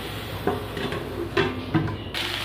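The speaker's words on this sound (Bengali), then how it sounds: "এবার আমি ঢাকা দিয়ে দেবো" A lid is set down on a cooking pot while a Bengali tilapia fish curry simmers, with a few light metallic clinks and knocks close by over a low kitchen hum.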